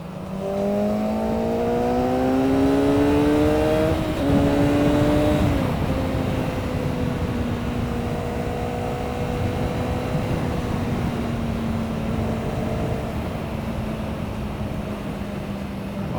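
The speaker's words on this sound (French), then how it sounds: "C'est une bécane évidemment qui demande ici à monter beaucoup plus haut dans les tours." A Kawasaki ZX6R motorcycle engine climbs through the revs, with tones rising steadily and then stepping down at each quickshifter upshift, several shifts in quick succession, loud and close over wind rush.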